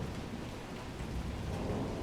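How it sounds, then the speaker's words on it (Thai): Heavy rain pours steadily in the Haunted School 2 video game, a dense, even hiss with low rumbling underneath, heard alone with no talk. "ตอนนี้ก็ฝนตกเลย ตกค่อนข้างจะแรงเลยนะครับ"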